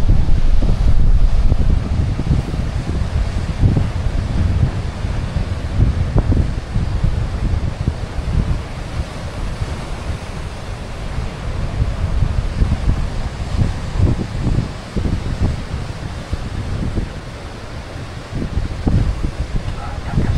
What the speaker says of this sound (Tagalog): So medyo mahangin lang po ngayon.